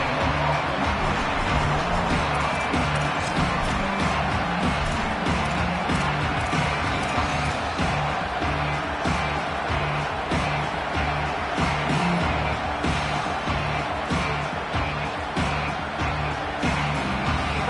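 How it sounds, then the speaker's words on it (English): A deafening football stadium crowd roars without a break, a dense, steady wall of cheering and noise that stays loud from start to finish. "This crowd ready to make its presence known. Deafening noise."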